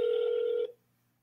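Outgoing phone call ringback tone, a single steady electronic ring lasting just over half a second before cutting off into silence.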